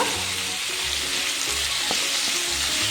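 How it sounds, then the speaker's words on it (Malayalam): Tomatoes added to a biryani masala of onion and ginger-garlic-green chili paste, frying in a pan with a constant loud sizzle under a faint low musical tone, no speech. "ഇനി ഇതിലേക്ക് നമ്മൾ എടുത്തു വെച്ചിരുന്ന ആ 3 തക്കാളി കൂടി ചേർത്ത് കൊടുക്കുക"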